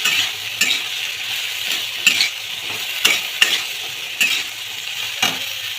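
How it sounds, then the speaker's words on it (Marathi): Drumsticks (shenga) with masala stir-fried in hot oil for a Maharashtrian bhaji: a steady close sizzle with repeated scraping strokes of a spoon against the pan, no talking. "शेंगा ॲड करून मसाला लागेल शेंगांना चांगला परतून घ्यायचा आहे"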